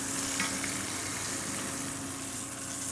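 Lamb riblets sizzle steadily in a hot pan in their own rendered fat just after being flipped. The hiss is dense and continuous, with a few crackles and a faint background hum, close up and with no talking.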